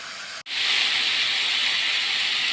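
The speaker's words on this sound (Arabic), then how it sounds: "اللحمه اتشوحت اهي" Meat sears in a pot for a fatta dish, giving a loud, steady sizzling hiss that breaks off for an instant and then surges back stronger and keeps going.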